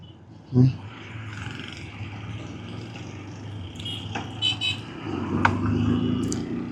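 Heavy road traffic in Pakistan rumbles steadily around a Royal GPX Raptor RZ200 motorcycle being ridden, with occasional horn toots, while someone talks over it.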